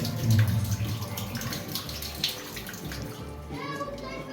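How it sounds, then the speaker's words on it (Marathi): Water flows steadily at the ancient Shri Ramling Shiva temple, a continuous close gushing and splashing like a running tap, with voices speaking over it. "प्रभू रामांनी बाण मारून सुरू केलेलं सतत वाहणारं पाणी इथे तीर्थ म्हणून दिलं जातं"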